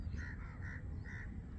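Birds call outdoors in a quiet spot in Pune, a few faint honking notes repeating at a slow, uneven pace over low background rumble.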